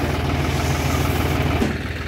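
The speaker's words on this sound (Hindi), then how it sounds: "अभी ऐसे में ट्रैक्टर चला था, अब ऐसे में चला दे रहा है जहाँ तक भी।" A tractor engine runs steadily in a paddy field, a loud, continuous low rumble with a pulsing throb and no pauses.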